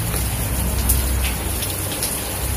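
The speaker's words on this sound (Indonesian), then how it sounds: "di luar hujan" Steady rain falling outside an abandoned tax office building, a constant broad hiss of drops with no pauses, fairly loud and close.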